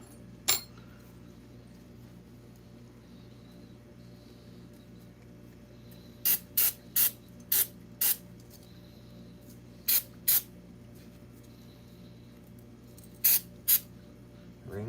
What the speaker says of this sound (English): I really do not want to hit my iPad with brake cleaner. So we'll clean his rings over here.